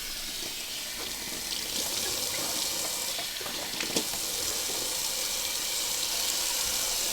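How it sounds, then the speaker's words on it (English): Cold water from a tap running for a rinse at a sink during a shave, a steady, close splashing rush with brief spatters and clinks on top, no voices. "cold water rinse"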